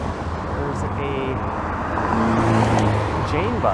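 A city bus passes along a street in the Jane and Finch area of Toronto on a chilly day, its engine rumble swelling steadily amid general traffic noise, fairly close.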